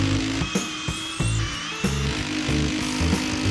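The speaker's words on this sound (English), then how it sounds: "We're gonna pilot drill some holes, and we'll get that bracket mounted and the heater hung," Power drill boring pilot holes to mount a bracket for an electric garage heater, heard close as repeated short bursts of whirring with brief pauses between them, no talk.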